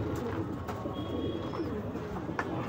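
Pigeons kept as flying birds at home coo softly at moderate distance, a steady low murmur with a few faint chirps over background noise.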